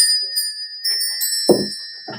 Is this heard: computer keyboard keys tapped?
no